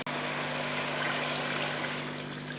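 Water pours steadily into a pan of lightly sautéed spices, a continuous rushing splash from start to finish beneath a low steady hum, with no one speaking.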